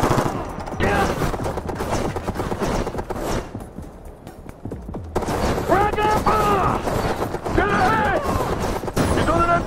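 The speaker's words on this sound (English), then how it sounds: "He's on an MG!" Bursts of machine gun fire in the Xbox 360 game Tom Clancy's Ghost Recon Future Soldier, rapid rattling volleys with booming impacts, loud and close, under shouted voices and battle chatter throughout.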